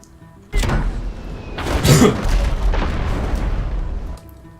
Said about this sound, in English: there comes the tidal wave. Wham!